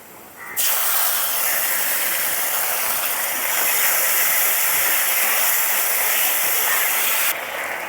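Ginger-garlic paste dropped onto onions fried deep red in a pan for an egg omelette curry: a loud, close hiss bursts in abruptly, holds steady for several seconds, then cuts off.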